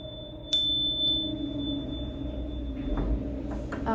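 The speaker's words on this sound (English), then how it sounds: "Oh no, my bell broke." A broken bell is struck once with a sharp metallic hit, leaving a thin ringing tone that hangs and fades over a faint background, with a few soft knocks later.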